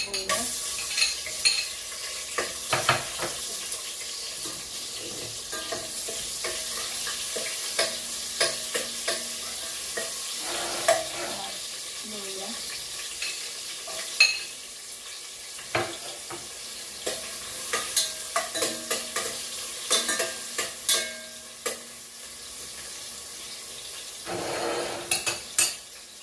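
Onions fry and sizzle in a pan while a utensil stirs them, giving a steady close hiss broken by frequent scraping and clinking against the metal, with no talk.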